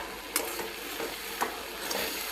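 Beetroot halwa cooking down with reduced milk in a pan over low heat, a steady soft sizzle broken by a few scraping stirs, close by.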